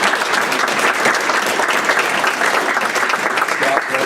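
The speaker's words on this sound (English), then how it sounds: "I'd like to give him a round of applause" Loud, dense applause from an audience at a county commissioners meeting, a steady continuous roar of many hands clapping close by throughout.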